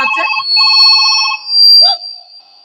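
A telephone ringing with a repeated electronic ringtone, loud and close, pulsing in bursts of beeps with a brief pause between them and no speech over it.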